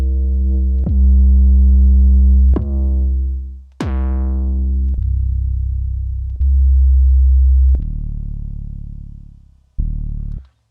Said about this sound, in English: I'm going to go with the 808 bass category. That's probably got what I want. And we're just going to listen to some of those sounds.